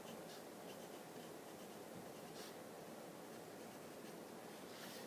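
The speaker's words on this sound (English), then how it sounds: "You can just draw this with your pencil." Pencil drawing on paper while sketching a value scale: a steady, faint scratchy rasp of graphite continues throughout, with a few slightly stronger strokes and no talking.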